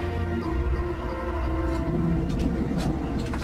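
A tram travelling along its rails, giving a steady, continuous rolling rumble with low mechanical drone and occasional faint squeals, heard alone without voices.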